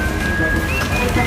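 Rain falling on and around a train, a continuous broadband hiss of drops, fairly loud and close, with a faint high whistle-like tone running through it.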